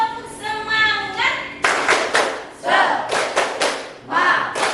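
Voices chant in rhythm while a group claps in sharp bursts, a short patterned sequence of hand claps punctuating the cheer.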